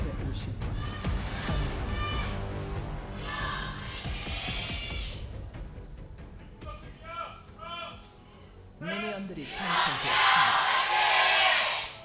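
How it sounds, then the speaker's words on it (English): Fans at LoL Park cheer loudly during a League of Legends LCK match between BRO and D+ Kia, with crowd roars swelling in bursts, the loudest near the end, mixed with commentators' talk. "that was a very, very loud cheer"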